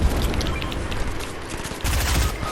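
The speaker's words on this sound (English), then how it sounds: "I can hear shots." Rapid, dense gunfire rattles without pause in a Fortnite match, a loud sustained spray of shots with a heavier burst near the end, close and continuous throughout.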